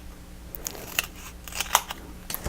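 Scissors cutting foam squares in half for a handmade wreath Christmas card, giving several close, crisp snips spaced irregularly over a quiet background.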